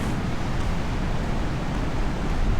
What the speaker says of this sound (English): the waves are a marvel here